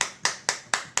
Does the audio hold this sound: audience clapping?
yes